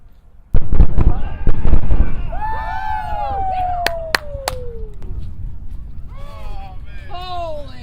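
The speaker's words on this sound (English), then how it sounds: "Sonic boom. Where's the boom?" Returning SpaceX Falcon Heavy boosters deliver sharp, loud sonic-boom bangs, a couple near the start and a quick cluster midway, while a crowd whoops, whistles and shouts excitedly around them.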